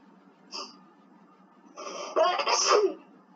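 A single sneeze bursts out over faint background noise during a tower defense game session, preceded by a brief sharp intake of breath.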